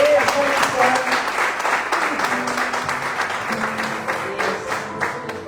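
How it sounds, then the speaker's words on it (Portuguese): A church congregation applauds, a loud, sustained wash of many hands clapping together, with voices and talk mixed in beneath the clapping as it gradually eases off. "Aplaude o Senhor, por favor."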